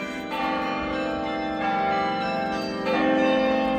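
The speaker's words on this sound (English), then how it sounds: "let's go in the Chimes Tower while the bells were actually going off" Large tower bells in the Chimes Tower at Longwood Gardens, Kennett Square, Pennsylvania, ring together in a dense, sustained peal, loud and close, with fresh strikes swelling the sound every second or so.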